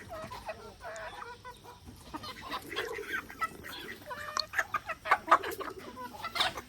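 Several chickens cluck and chatter close by while feeding, with sharp, irregular calls growing busier toward the end over a soft background murmur.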